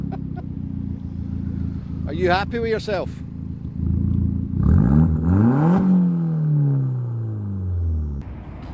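An Audi TT engine idles and revs under a voice, with a rising engine whine sweeping upward in the middle before settling back to a steady rumble.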